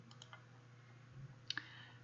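A mouse click while working in ABAQUS simulation software: two small, close-set clicks near the end of a quiet stretch, soft and near, with faint earlier ticks and no talk.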